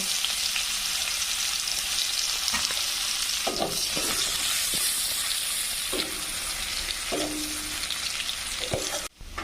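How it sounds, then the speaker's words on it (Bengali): A small amount of onion fries in hot oil toward reddish brown, giving a continuous close sizzle with intermittent spatula scrapes and stirs, ending in a sharp clatter. "এখানে আমি অল্প কিছু পেঁয়াজ লাল লাল করে ভেজে নেব।"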